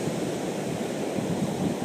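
Sea surf washes steadily along a shore as a continuous broad rush, mixed with wind buffeting the microphone and no distinct single breakers.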